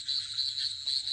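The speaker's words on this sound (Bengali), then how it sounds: "চারপাশে শুধু ঝিঝি পোকার ডাক।" Crickets chirp in a cartoon night scene beside a river under a full moon, a faint, continuous high trill with a slight pulsing rhythm.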